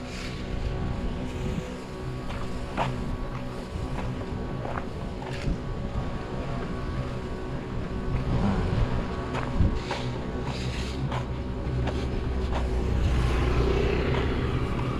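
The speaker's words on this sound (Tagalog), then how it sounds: "Lakas ng hangin." Steady strong wind over farm garden beds buffets the microphone with a low rumble and gusty roar for the whole stretch, no voices.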